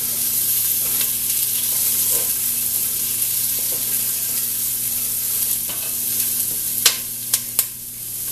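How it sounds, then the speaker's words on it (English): Onions sizzle steadily in hot oil for chili while they are stirred, a constant bright hiss broken near the end by a few sharp scrapes and clicks of the spoon against the pot. "we're just going to keep stirring until it stops sizzling"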